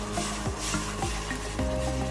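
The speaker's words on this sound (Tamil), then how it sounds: "இதையும் இந்த எண்ணெயில வந்து நல்லா வதக்கிடலாம்" Spice paste sautéing in hot oil for chicken biryani, a steady close sizzle with soft stirring scrapes throughout.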